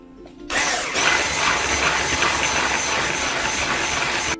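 A broad, steady whirring roar like an electric mixer runs loud and continuous after a short quiet start while poppy seeds and semolina are mixed for revani, with no talking.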